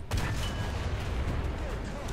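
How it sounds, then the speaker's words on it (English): Naval guns fire at a destroyer's bow in War Thunder, a continuous heavy rumble of booms and impacts with a few sharper cracks, loud and close throughout. "So let's fire off a few rounds at this Yugamo. Fire off at the bow section. Some quite loud booms going on here."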